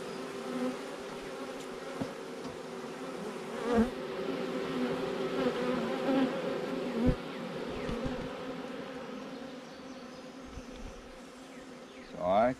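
A steady hum of many buzzing honey bees fanning at a hive fills the air close by, with occasional louder buzzes as individual insects pass near.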